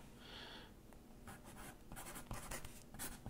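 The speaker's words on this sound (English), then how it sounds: "With a pencil that doesn't write." Pencil scratching across paper in several short bursts, close and fairly quiet, with no talking.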